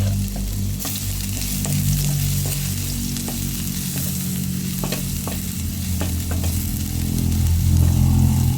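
Garlic sizzles in hot oil in a heated pan, a loud close frying hiss broken by repeated scraping stirs, with a low rumble underneath.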